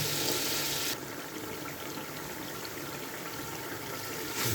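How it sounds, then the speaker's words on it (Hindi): Water is added bit by bit to masala frying in ghee with black pepper, cumin and coriander for a potato and capsicum curry. It makes a steady, close rushing hiss that runs the whole time and eases slightly after the first second. "अब हम इसमें थोड़ा थोड़ा पानी डाल के इसको अच्छी तरह भूनेंगे मसाले को।"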